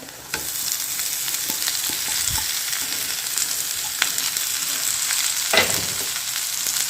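Spring onion greens frying in hot oil in a pan for a dry sabzi, giving a steady close sizzle with scattered crackles and a few stirring scrapes throughout, with no one talking.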